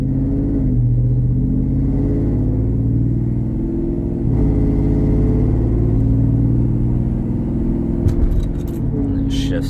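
A 2021 RAM 1500 Classic fitted with an AFE intake and exhaust rumbles steadily at idle and low revs, a deep continuous engine drone with a slight rise in revs, while someone talks over it.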